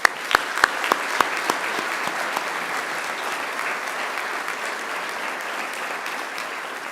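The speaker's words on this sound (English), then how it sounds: "Let's give another great round of applause." Audience applause at a Macquarie University graduation ceremony, opening with a few sharp separate claps before settling into steady, even clapping from a large crowd that carries on for several seconds without talk.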